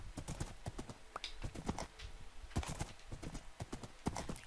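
A horse in the video game Minecraft gallops with rapid, irregular clip-clop hoofbeats and a brief whinny, quiet and close, with no voices over it.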